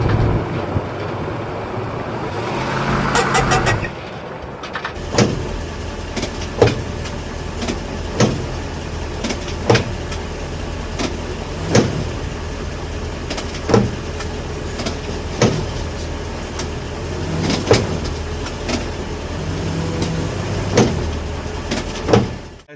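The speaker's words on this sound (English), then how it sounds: "at a certain speed, it starts to sound like a gear clacking, might be your drive shaft" A Toyota Tundra with a worn drive shaft U-joint clacks while rolling, giving sharp, regular knocks roughly every second over a continuous road and engine rumble.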